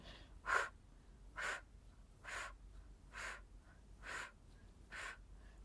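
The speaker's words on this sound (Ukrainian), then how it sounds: "Глибокий вдих, і на видих починаємо" Deep, slow breaths during a postpartum recovery exercise, six evenly spaced breath sounds about a second apart, soft and close with no talking.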